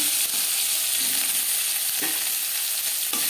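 Fish heads sizzle steadily in hot oil in a kadai, a dense continuous crackling hiss with a few soft stirring scrapes, close and fairly loud, with no talking.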